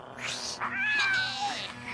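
Cat carried in a bundle yowls loudly, a drawn-out wavering caterwaul with rising and falling pitch over a faint low hum.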